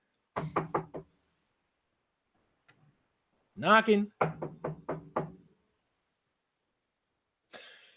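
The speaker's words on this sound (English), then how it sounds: "and I'm knocking." A run of four quick knocks on a door, a short pause, then a longer burst of five more knocks, loud and close, with a brief voiced sound between them and a faint noise at the end.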